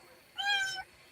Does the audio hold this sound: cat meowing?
yes